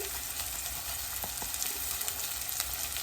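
Chopped onions fry in a pan toward browning, giving a continuous dense sizzle with a few brief utensil clicks and scrapes along the way and no talking.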